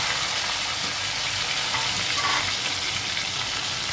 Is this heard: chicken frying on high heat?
yes